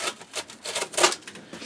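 A Steel Will Resident knife saws through thick cardboard in a quick series of close, rasping scratchy strokes, each short pull rising and fading, with one stronger cut near the middle.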